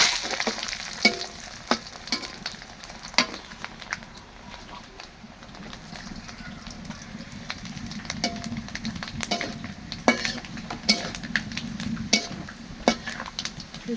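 Panch phoron whole spices fry in hot oil for a raw mango and tamarind pickle, a steady close sizzle broken by scattered clinks and stirring of a utensil against the pan.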